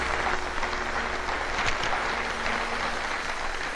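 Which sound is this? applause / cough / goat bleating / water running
applause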